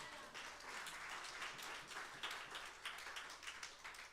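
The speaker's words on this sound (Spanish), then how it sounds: "Dale un aplauso al Señor." A church congregation claps in praise of the Lord, a faint, steady patter of many hands going on throughout, with no voices over it.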